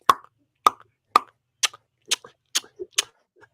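A voice mimics cans popping open, making seven crisp pops at a steady, even pace.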